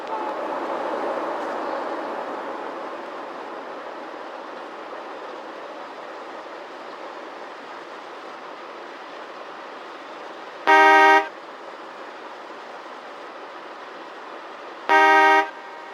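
A diesel freight train rolls through Tarboro, North Carolina, on the CSX line in the Trainz simulator, its low steady rumble broken by two loud, clear horn blasts a few seconds apart.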